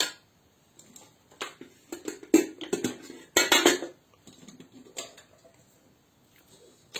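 Brown rice being spooned from one cooking pot into a separate pot, with scattered metallic scrapes and clinks of a utensil against the pots, coming in short bursts with quiet gaps between them.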